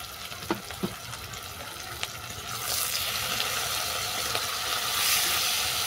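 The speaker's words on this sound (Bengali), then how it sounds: "কাঁকড়ার সঙ্গে সমস্ত মশলা ভালো করে কষিয়ে নেব।" Crab frying in a pan with ground cumin and coriander, a steady sizzle that builds and brightens midway, with a few sharp clicks and stirring knocks near the start.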